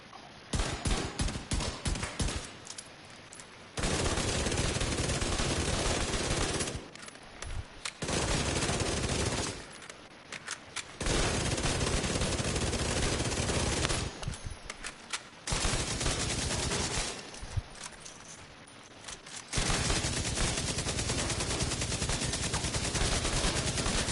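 Rapid automatic gunfire from a Striker build in The Division 2, loud sustained bursts lasting several seconds each, broken by brief pauses.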